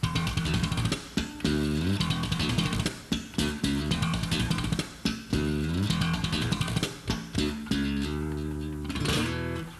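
Punchy, percussive bass line with snappy slaps and muted taps in a busy rhythmic groove, loud and close, with brief gaps between phrases.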